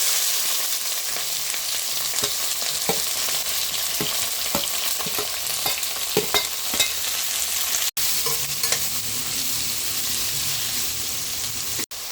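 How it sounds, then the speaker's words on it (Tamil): A large chopped onion with fennel seeds fries in hot oil in a pan and is stirred, giving a steady close sizzle with repeated scraping strokes throughout; no one speaks. "வெங்காயம் நல்லா வதங்கட்டும்."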